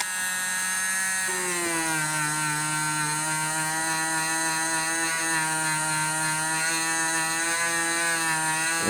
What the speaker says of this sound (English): And we'll just do a little bit of buffing.